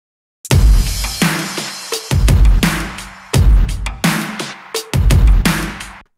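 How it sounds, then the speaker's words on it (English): Pop chorus drums in a modern production: loud, punchy kick and snare hits with bright cymbal wash, playing in repeating bursts with short gaps between phrases. No one speaks over the beat. "the drums on the chorus sound like this."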